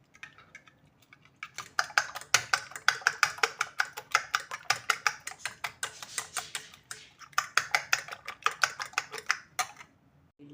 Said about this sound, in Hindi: ये अंडों को हम अच्छी तरह से अपने कांटे की मदद से फेंट लेंगे।